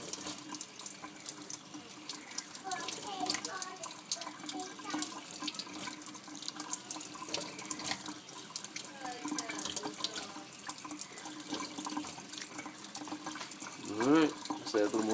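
Tap water runs steadily into a sink to wet two salted knife blades, 14C28N and AEB-L steel, for a corrosion test, a continuous close splashing flow with a brief louder gush near the end.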